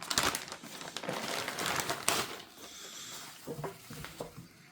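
Bubble wrap is crinkled and pulled apart while a package holding a phone mount is unwrapped, making busy close-up crackling and rustling that is dense at first, then thins into scattered crinkles.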